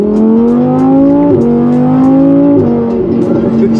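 A Lamborghini Urus SUV with an aftermarket exhaust revs loudly and steadily, engine pitch climbing in sustained pulls with two brief drops between shifts, close and dominant throughout with no talking.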